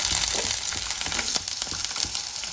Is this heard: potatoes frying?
yes